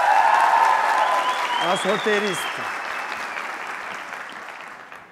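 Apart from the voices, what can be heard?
audience applause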